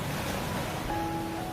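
Sea waves wash in a steady, noisy hiss with some wind, moderately loud and continuous for a moment, with no talk over it.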